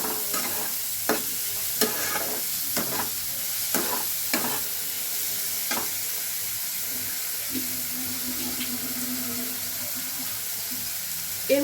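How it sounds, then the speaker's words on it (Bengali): Pasta being stirred and mixed in a frying pan for a breakfast dish, with repeated scraping strokes at an uneven rhythm over a steady sizzle, close and moderately loud, with no talking. "এবার সবগুলোকে ভালো করে মিশিয়ে নেব।"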